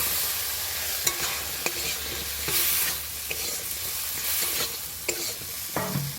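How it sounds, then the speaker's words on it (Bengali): Potatoes and spices are stir-fried in a pan at a Sundarbans forest picnic: a continuous close sizzle with repeated sharp scraping strokes of a spatula against the pan, no voices. "এবার আলুগুলো কষিয়ে নেব।"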